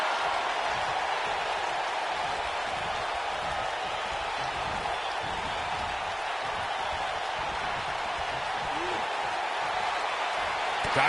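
Wrestling arena crowd at a WWE event roaring in a steady, dense wash of cheering and noise that holds for the whole stretch without a break.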